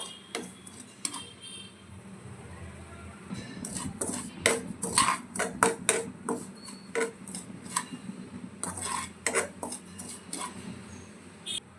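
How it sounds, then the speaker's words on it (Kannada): Semolina (rava) fried in ghee over a medium flame for kesari bath, with a faint sizzle and a run of fairly loud scraping and clinking as a spatula works the pan. "ಇದನ್ನು ತುಪ್ಪದಲ್ಲಿ ಡೀಪಾಗಿ ಸ್ವಲ್ಪ ಫ್ರೈ ಮಾಡ್ಕೋಬೇಕು"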